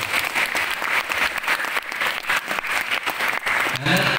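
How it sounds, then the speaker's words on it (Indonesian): Students at a school on Belitung island clap for their teachers in a thick, continuous burst of applause that stays loud and steady throughout, with a few voices faintly mixed in. "Tepuk tangan buat guru juga semua."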